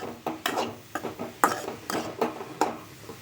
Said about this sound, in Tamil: இதை நல்லா ஒன்று சேர்த்து எல்லாத்தையும் கிண்டி விடுவோம்.